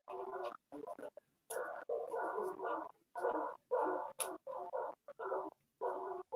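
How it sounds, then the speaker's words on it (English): Dogs bark and whimper in short, repeated bursts from a watched video, each cut by brief gaps, fairly close and clear with no talk over them. "you hear the dogs"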